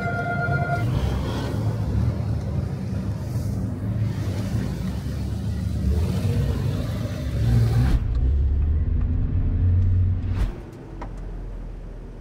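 A race car driving on the Fuji circuit, its engine a loud, continuous near rumble that swells and holds, then drops off abruptly to a quieter low drone near the end.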